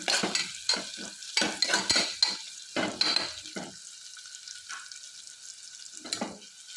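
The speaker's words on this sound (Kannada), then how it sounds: "ನೋಡಿ, ಈಗ ಚೆನ್ನಾಗಿ ಫ್ರೈ ಮಾಡ್ಕೊತಾ ಇದ್ದೀನಿ." Onions and tomatoes fry in a pan for a cabbage kurma, with close utensil scrapes and stirring strokes coming in irregular bursts over a steady soft sizzle; no voices.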